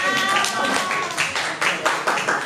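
Students in a classroom clap their hands together in a short burst of group applause, steady at first and then thinning into a few louder scattered claps, with some voices mixed in underneath.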